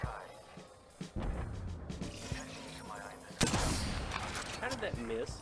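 Gunfire in the video game Apex Legends, with bursts of shots and mechanical clatter mixed under in-game voices and a player talking over it.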